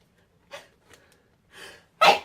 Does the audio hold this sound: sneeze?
yes